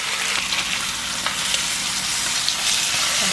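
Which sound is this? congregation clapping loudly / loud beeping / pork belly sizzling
pork belly sizzling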